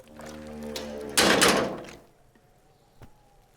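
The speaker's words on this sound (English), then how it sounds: "The container sounds a muffled gong." A container in a video game sounds a muffled, gong-like thud: one heavy hit lasting about a second, preceded by low tonal hum and followed by a small knock at the end.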